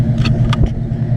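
A truck crawls through a blizzard in four-wheel drive low, its engine a close, steady low rumble with a few brief hissing bursts above it.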